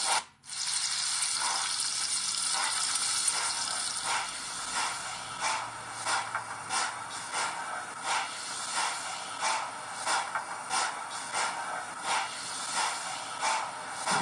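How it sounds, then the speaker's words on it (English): Steady crackling hiss of bacon frying in a pan aboard a train, close and continuous, with faint rhythmic scraping underneath and no voices. "Oh, bacon sizzling."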